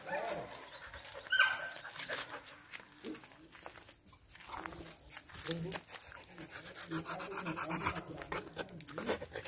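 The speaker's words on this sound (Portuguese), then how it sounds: "E daqui a pouquinho vocês vão ver aí que cachorra maravilhosa, ok?" A female pitbull pants and whimpers close by, with a few soft dog vocal sounds under steady background voices and people talking.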